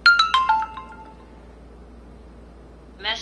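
A Windows Phone plays a short bright electronic alert tone for an incoming text message, a quick descending series of chiming notes, followed by quiet and then a brief soft sound at the end.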